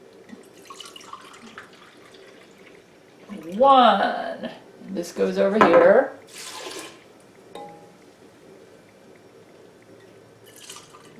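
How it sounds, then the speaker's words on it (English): Bean-soaking water is poured into a cooking pot for red beans and rice, giving two short, close splashing pours that come between bits of a person speaking in a quiet kitchen. "I'll be using the water that I soaked the beans in."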